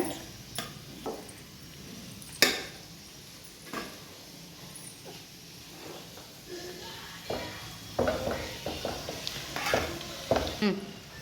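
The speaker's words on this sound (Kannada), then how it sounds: "ಸೊ ಅದಕ್ಕೆ ರೈಸ್ ಎತ್ಕೊಂಡಿದ್ದಾರೆ ಮಿಕ್ಸ್ ಮಾಡೋದಕ್ಕೆ" Cooked rice being mixed into fried egg in a pan for egg rice, soft sizzling under intermittent spatula clinks and scrapes against the pan, sparse at first and then quicker and busier, fairly quiet and close.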